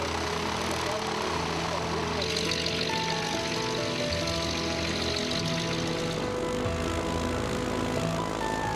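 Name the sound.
vintage propeller aeroplane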